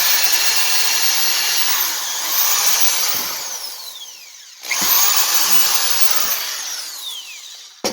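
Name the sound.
power drill drilling a hole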